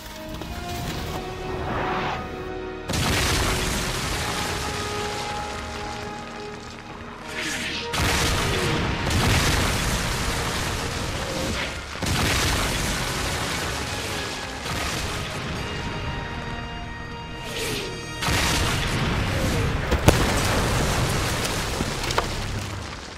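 Big guns firing in a war short film, heavy booming blasts and crashing explosions arriving in long rumbling waves, loud and dense, repeating over the whole stretch with a sharp crack near the end.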